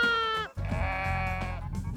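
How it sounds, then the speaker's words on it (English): A 5-day-old Navajo churro lamb bleats twice up close, the first cry wavering and breaking off before a longer, quavering second call. "this is a Navajo churro sheep. She's just 5 days old."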